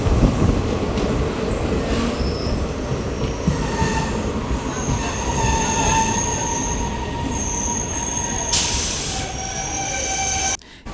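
A DEMU train rumbles steadily close by as it arrives at Jadcherla station, with high metallic wheel squeals ringing over the noise and a brief hiss near the end.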